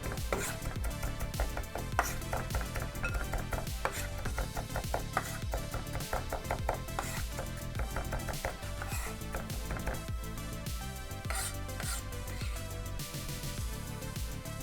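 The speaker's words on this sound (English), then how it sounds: "now I'm just turning it into almost a puree of chopped garlic" Knife chopping garlic with salt on a board, working it into a puree for a cucumber salad with fresh coriander; dense, steady rapid tapping continues close and even throughout with no talk.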